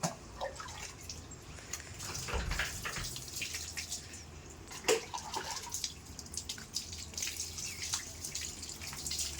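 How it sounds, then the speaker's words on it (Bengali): Water runs and drips while a pet is bathed with Himalaya shampoo, a faint, steady trickle with scattered splashes and drops, heard alone without voices. "স্নান করছে শ্যাম্পু দিয়ে"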